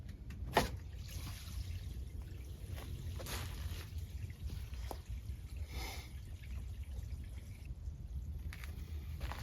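Gray water from a camper's shower and sink tank drains at a dump station, a steady low trickling, gushing flow with a few brief clanks, close by and continuous with no talking.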